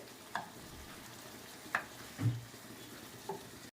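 Squid roast fries in a pan over a high flame, a soft steady sizzle punctuated by a few distinct stirring scrapes and clinks.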